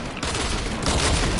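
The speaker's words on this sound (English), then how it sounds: "Shooting with a small ass pistol." Pistol fire in a shooter video game crackles as a rapid, dense burst of sharp shots, loud and close, with a brief gap before the volley resumes even harder.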